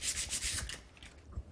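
Sandpaper rubs over hand-carved natural wood in a woodcarving workshop, a series of quick, close rasping strokes that fade toward the end.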